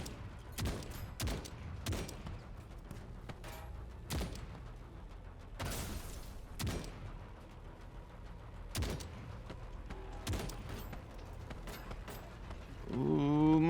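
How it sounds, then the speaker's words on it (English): A 20 mm anti-tank rifle firing in the video game TankHead: heavy, booming single shots at irregular intervals, about eight across the stretch, each loud and sharp over a low rumbling backdrop, with a brief mechanical whine near the end. "Let's try this anti-tank rifle."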